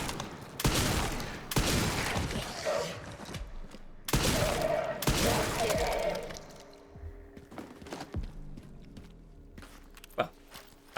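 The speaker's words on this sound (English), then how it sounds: "The zombies have machine guns now." Bursts of machine-gun fire from zombies in Resident Evil Requiem, two long loud volleys in the first half, then quieter scattered shots and clanks with a low hum.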